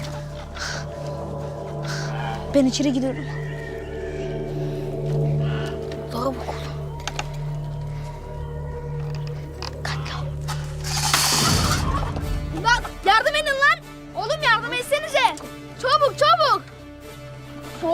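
Poultry cluck and squawk in bursts near the end, after machinery hum, a sudden crash, and a person speaking briefly.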